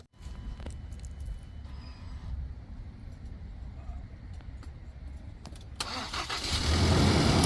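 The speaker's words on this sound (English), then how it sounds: "And now we're able to start the vehicle." A newer Ford Ranger's engine cranks and catches after a jump start from a portable booster box, a few clicks and quiet cranking giving way to the engine firing and revving up loudly at the end.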